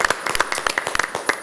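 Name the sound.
studio audience applause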